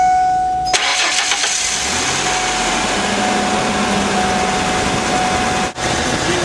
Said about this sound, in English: Going to start the engine.